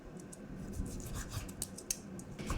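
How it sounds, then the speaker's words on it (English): A knife slices raw chicken into nugget-size cubes, giving soft, close scraping and cutting strokes at a quiet level with no speech. "you're going to cut them into like nugget size"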